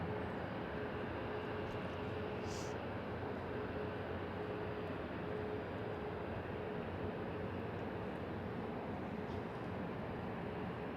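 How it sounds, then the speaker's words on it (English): A small VistaJet plane passes overhead, producing a steady, broad engine roar that holds at an even level for the full eleven seconds. "The small plane is going to Malaga."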